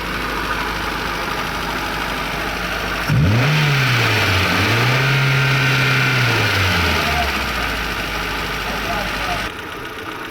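A Hyundai Santro engine, just repaired with a new ISC actuator, fires up partway through, flares to a high rev, then settles into a steady elevated idle close to the microphone before dropping off at the end.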